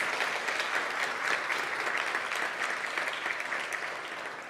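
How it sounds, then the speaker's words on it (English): Audience applause for the speakers at the Three Minute Thesis national competition, a steady dense wash of clapping from a large room that holds evenly throughout and eases slightly toward the end. "So round of applause for our speakers."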